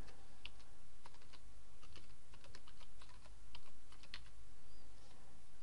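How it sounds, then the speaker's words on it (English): Someone types on a computer keyboard at a desk, a rapid, irregular run of close key clicks over a low steady room hum, with no speech. "I'm going to type the name in"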